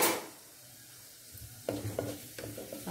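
Cumin seeds hit hot oil in a pan, giving a soft, close sizzle with a few light stirring scrapes and clicks; the sound is quiet and has no talk over it.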